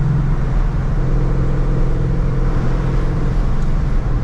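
A Ford with a 10R80 automatic transmission driving in paddle shift mode on a hot day: a steady, loud engine drone and road noise from inside the cabin, continuous throughout without talk.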